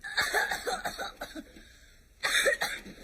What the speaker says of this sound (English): Stop that coughing at once.